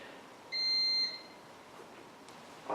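A faint electronic alarm gives one short high beep indoors while the lights are switched off, over a quiet room hum with no talk.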